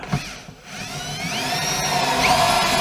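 A cordless drill drives a 4x50 Turbo Gold woodscrew into timber, a steady rising motor whine building from a brief start and running continuously, loud and close, with the torque setting too high so the screw buries itself.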